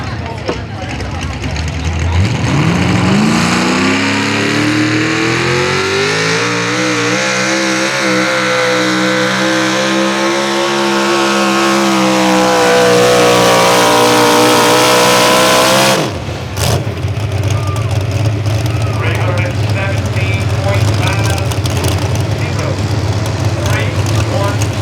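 A modified 4x4 Chevrolet truck roars loudly during a truck pull, its engine note climbing steadily in pitch for about fifteen seconds before cutting off abruptly to a lower, rougher rumble.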